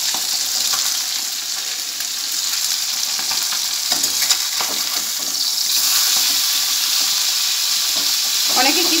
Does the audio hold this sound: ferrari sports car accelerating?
no